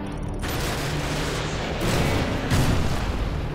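AGM missile strikes in the video game Sniper Fi: dense, rumbling explosions rolling continuously, with heavier blasts swelling near the middle and the end, loud and booming with no speech.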